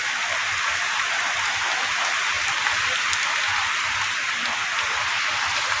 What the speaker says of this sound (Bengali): বৃষ্টি হচ্ছে অনেক জোরে।